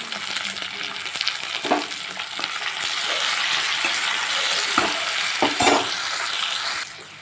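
Mixed vegetables and tomato sautéing in a pan, a close steady sizzle with several spoon scrapes and clinks as they are stirred, no talk.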